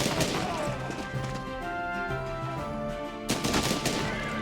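Old rifles fire in a turn-based strategy game, with sharp cracking shots at the start and again near the end around a sustained musical tone.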